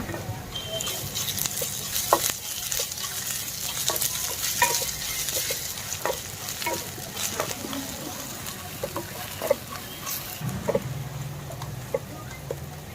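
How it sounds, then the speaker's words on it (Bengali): Onions and ginger-garlic paste fry in a hot oiled wok, giving a steady sizzle with scattered stirring scrapes and clinks, close and continuous throughout. "আদা রসুনটা ভাজা হয়ে গেছে"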